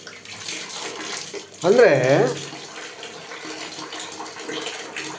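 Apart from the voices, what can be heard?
water running from a tap connected to a geyser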